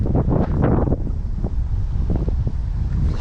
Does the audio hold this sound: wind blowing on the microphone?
yes